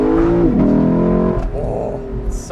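A 2022 Lexus LC500 engine revving in Sport Plus mode, loud and close, with a rising rev, a quick blip and a drop into a lower rumbling tone.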